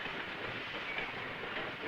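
A train rolls steadily along the rails, a continuous rumbling roar with a faint hiss, fairly loud and unbroken with no talking.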